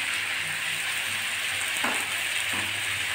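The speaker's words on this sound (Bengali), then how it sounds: "আমি পেঁয়াজের সঙ্গে ডালটা ভালো করে কষিয়ে নিচ্ছি" Washed red lentils frying with onions in a pan, a steady close hiss of sizzling with a couple of brief stirring scrapes and no speech.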